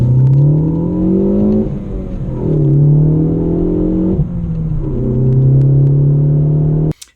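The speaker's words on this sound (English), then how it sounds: "here you can see that in this video of me just taking off from a light" A tuned Ford Focus ST with cold spark plugs pulls away from a light, its engine droning loudly through three rising gear pulls separated by quick shifts, heard from inside the car.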